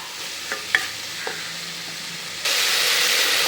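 Onions and tomatoes sauté in a pan for a mutton curry, a steady close frying sizzle with a few soft stirring clicks early on, the hiss swelling louder and brighter toward the end.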